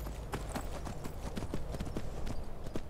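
Horse hooves clip-clop in a steady, even trot in the video game Skyrim, the rhythmic footfalls fairly quiet and continuous throughout, with no clear speech.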